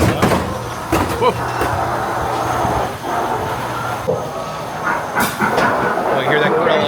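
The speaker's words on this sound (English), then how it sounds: "Control, we have a train on our track and it's coming right at us." A train rumbles toward the listener as an attraction sound effect, with a continuous loud roar, rattling clatter and sharp metallic bangs, while people talk excitedly over the noise.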